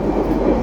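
Steady, loud rumble inside a Sembrani Luxury passenger train running between Jakarta and Surabaya, a dense low roar of the carriage in motion with no talking.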